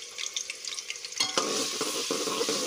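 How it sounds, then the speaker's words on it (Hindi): Crushed garlic dropped into hot ghee, a spoonful, bursting into a loud steady sizzle after a quieter stretch of light stirring and clinks, with a few scraping strokes under the frying. "घी जो है वो गर्म हो चुका है और इसमें 1 चम्मच जो है हम वो पिसा हुआ लहसुन डालने लगे हैं।"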